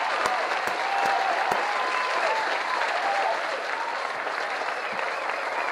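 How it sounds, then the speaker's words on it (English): Crowd applause from the My Singing Monsters video game plays loudly and continuously, dense clapping with a few sharp clicks early on and a bright chirping tone woven through. "about hearing the applause"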